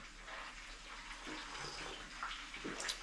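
Warm water pours in a steady, even splash that runs for a few seconds at moderate level, with a slight rise in splashing toward the end.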